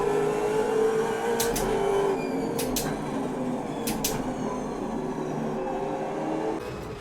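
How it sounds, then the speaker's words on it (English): A MOZA SGP sequential shifter clacking through gear changes: three crisp paired snaps a second or so apart, then one more, over a steady low mechanical hum. "Each and every shift produces a clean snap"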